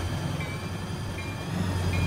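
Train in the Roblox game RO-Scale running along rails on the route out of B&LC Horsethief Rail Yard, a steady low rumble with faint wheel noise and an occasional brief high squeal, no voices.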